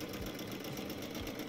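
A sewing machine stitching machine appliqué, its rapid steady mechanical whir running continuously and close up, with no voices.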